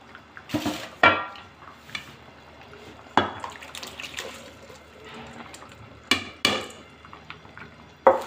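Rice poured into a pot of boiling water on a stove, heard as scattered clinks, splashes and pot knocks at irregular intervals, with a sharp clatter every few seconds and a low bubbling between.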